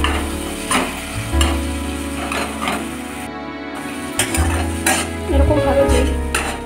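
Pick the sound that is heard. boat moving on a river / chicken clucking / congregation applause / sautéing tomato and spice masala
sautéing tomato and spice masala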